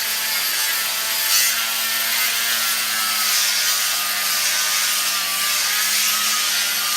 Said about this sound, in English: That sander's heavy, the grinder.